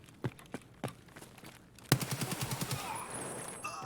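RPKT Mod-1 AK-104 rifle firing in Escape from Tarkov: a few spaced single shots, then a fast sharp automatic burst of about eight rounds, close and crisp, with no talk over it.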